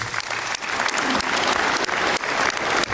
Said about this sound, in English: That deserves a round of applause, everybody.